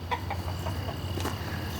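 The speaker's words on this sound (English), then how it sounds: "I hear you there, chicken, rooster" A chicken clucks in a few short, soft bursts against steady low background noise.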